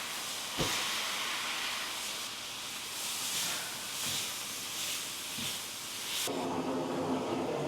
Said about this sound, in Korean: 토치로 불맛을 좀 입혀주시고요.